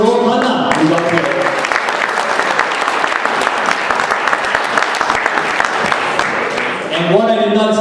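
An audience at a Saratoga Hindu Temple New Year celebration applauds Raghu Khanna with loud, sustained clapping for several seconds, while a voice speaks over the opening and closing moments.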